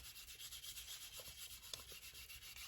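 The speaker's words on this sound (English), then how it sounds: "I just hand sand it with this extra fine" Leather being hand sanded with extra fine 800 grit sandpaper makes soft, quick rubbing strokes in an even back-and-forth rhythm, quiet and close with no talking.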